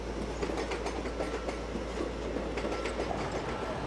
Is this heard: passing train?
yes